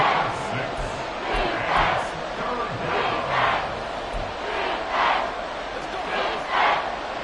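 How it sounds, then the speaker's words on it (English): A football stadium crowd in a Bills at Dolphins game cheers and roars steadily, with swelling waves of shouting. The sound is loud and sustained, with a commentator's voice faintly underneath. "Crowd on their feet."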